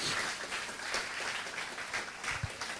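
A church congregation applauds in a steady, dense wash of clapping that holds at an even level throughout, with one sharper, louder clap near the end.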